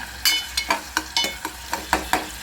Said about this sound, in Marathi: कांदा भाजायला तेल टाकलं कांदा पूर्ण भाजून घ्यायचा